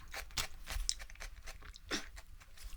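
Someone bites into and chews a dill pickle from Jimmy John's, giving a string of soft wet crunches at close range, fairly quiet and irregular in rhythm, with no talking.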